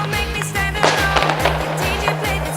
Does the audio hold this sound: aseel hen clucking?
no